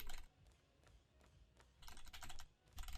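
Rapid computer keyboard clicking while playing a football life simulator game, bursts of fast tapping separated by quieter pauses, close and soft with no voice.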